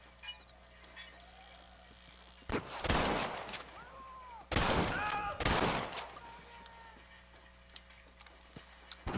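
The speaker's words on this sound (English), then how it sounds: "They shoot one of the horses." Gunfire in the Red Dead Redemption video game during a hardcore multiplayer free-roam session on PS3, two loud bursts of rapid shots with horse hooves in between.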